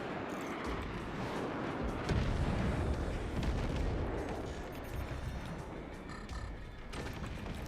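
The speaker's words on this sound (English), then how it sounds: "this guy's still shooting me" Continuous gunfire and artillery-like bursts fill a busy video game battle in a balance mod, a dense rumbling barrage throughout with loud peaks near the middle and no clear speech.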